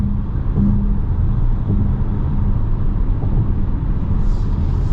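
Inside a 2026 Chrysler Pacifica Limited AWD minivan at speed, steady low road rumble and light wind noise continue throughout, without speech.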